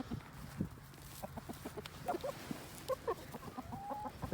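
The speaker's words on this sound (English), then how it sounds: "That's the chicken that I like." A chicken being thrown feed clucks in a string of short, soft, irregular calls close by, with quieter outdoor background noise underneath.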